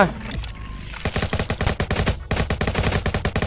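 Rapid bursts of AK-47 automatic fire in the Roblox game Jailbreak, sharp rhythmic shots after a brief opening sound, pausing once before another sustained volley, loud and close.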